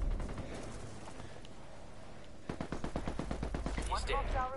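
Gunfire in the Ghost Recon video game: after a quieter stretch, a rapid series of sharp shots rattles out in close succession, with a voice briefly audible near the end.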